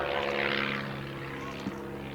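Propeller-driven aircraft flying at the Shuttleworth evening air display, an instructional trainer type, producing a steady droning engine hum with a low tonal buzz, moderately near and sustained throughout with no talk.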